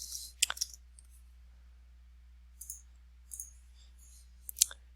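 Sparse computer mouse clicks in a quiet room: a quick pair near the start, a few faint single clicks in the middle, and one sharper click near the end, close and alone over a low steady hum.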